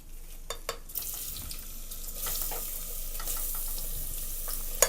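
Onions sizzle in hot oil with whole garam masala for mutton dum biryani, a crackling fry that rises after a few light clinks and stirs, staying loud and steady.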